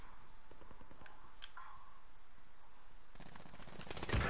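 Rapid machine-gun fire in a first-person shooter video game, with sparse scattered shots at first before a dense, loud burst of rattling automatic fire near the end.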